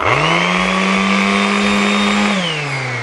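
APRO corded electric sander running at maximum speed, a loud close steady motor whine holding an even pitch, then dropping as it winds down near the end, with no talk.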